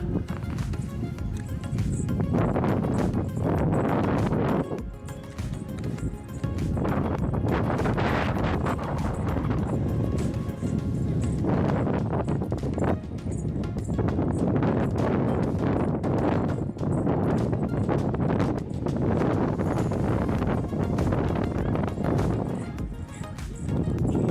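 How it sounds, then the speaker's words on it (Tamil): Strong wind at a hillside tourist spot in Ooty buffets the microphone in continuous heavy rumbling gusts, rising and falling throughout with no break. "செம்ம காற்று, சான்ஸே இல்லை"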